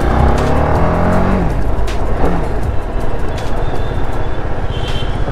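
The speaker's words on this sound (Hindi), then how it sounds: "मज़ा आ रहा है बाइक चलाने में।" TVS Apache RR310 motorcycle running on Motul 300V engine oil, a loud close engine drone with rising and falling revs throughout, heard from the rider's position with wind rush.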